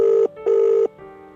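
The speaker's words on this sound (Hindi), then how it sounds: "मैंने फिर धीरज को कॉल किया पर उसने फ़ोन नहीं उठाया" A telephone rings unanswered in two loud, steady bursts with a short gap between them, then a fainter tone trails off, with no voices present.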